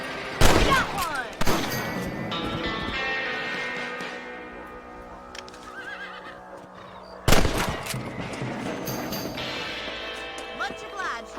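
Sharp gunshots ring out in the Red Dead Redemption video game during a rabbit hunt. Two loud cracks echo and fade, with horses whinnying and someone talking nearby.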